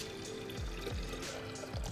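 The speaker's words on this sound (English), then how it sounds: "Pour in the watermelon mixture back into the watermelon." Watermelon mixture is poured back into a hollowed watermelon. The liquid makes a soft, continuous gurgle and trickle with a few quiet glugs, close up and low in level.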